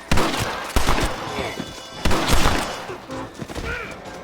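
Gunshots in the video game Red Dead Redemption: several loud, sharp cracks with thuds and echoing tails, spaced irregularly through a shootout, with faint background voices.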